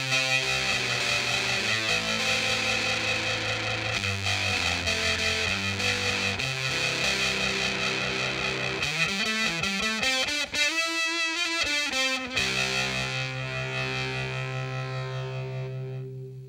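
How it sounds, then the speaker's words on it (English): A guitar runs through the distortion setting of a multi-effects unit, loud and saturated, with sustained gritty chords, a bent note sliding up and back down mid-phrase, and a final ringing chord slowly fading out. "So now let's bring in the distortion side."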